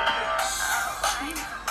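Music plays from the small speaker of a Cubot X6 smartphone, a thin, midrange-heavy sound with some pitched tones, fairly loud and continuous throughout.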